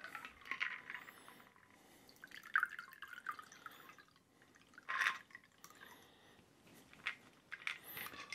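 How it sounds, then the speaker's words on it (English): A Naked and Famous cocktail poured into a chilled coupe glass, quiet trickling and splashing liquid in a few short bursts, faint and close. "And we pour."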